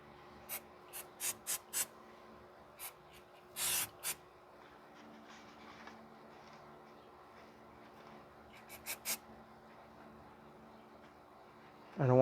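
Brake cleaner hisses from a spray can in short, separate bursts onto the engine surface of a 2009-2013 Toyota Corolla 1.8 L 2ZR-FE near the rear main crankshaft seal, with a longer spray midway and quiet gaps between.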